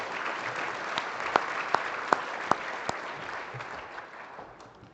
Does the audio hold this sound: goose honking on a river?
no